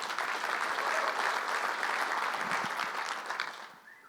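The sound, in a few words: audience applause at a flooring conference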